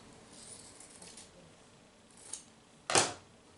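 Scissors trim a fabric piece for a quilt block, with quiet handling rustle, a faint snip, then one crisp, sharper cut near the end, close and soft.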